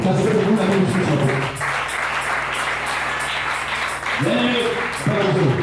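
Congregation clapping in church during a French-language service, a steady wash of applause running the length of the moment with voices and music tones over it at the start and end.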